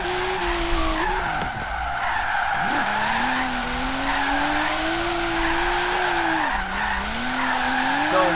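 A car drifts in Forza Horizon 3, played on a Logitech G920 wheel. A sustained tire squeal rides over a steady engine drone, with the pitch swooping as the slide angle changes.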